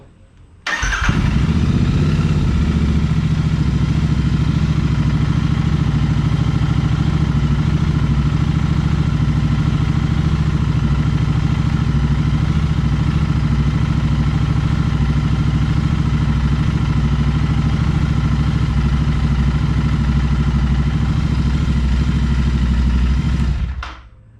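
A Royal Enfield motorcycle engine cranks over with a brief starter burst, then settles into a steady, loud, close thumping idle that runs unbroken for over twenty seconds before cutting off.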